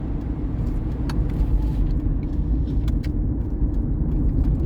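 A car drives along a multi-lane road and moves over into the second lane, with a steady, loud engine and tyre rumble close by throughout.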